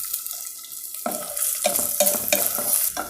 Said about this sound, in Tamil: இந்த நெய்லேயே இந்த மாம்பழத்தை போட்டு நல்லா பரட்டி எடுத்துனுடலாம்